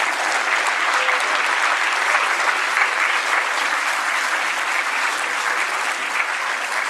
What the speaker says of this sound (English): Now, please join me in giving our speakers a final round of applause.